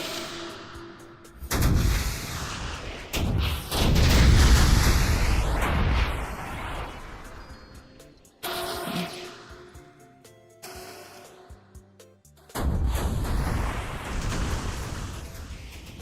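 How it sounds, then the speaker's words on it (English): Missile launcher explosions in a VRChat game, a series of loud booming blasts with rumbling tails that come in heavy bursts separated by brief lulls. "Oh, it's the missile launcher."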